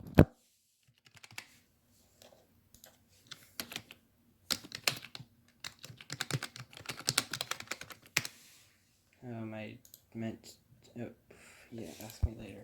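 Someone types a name on a computer keyboard during setup of a Dell Inspiron 3840, with scattered close keystrokes speeding into a busy run, then someone speaking near the end.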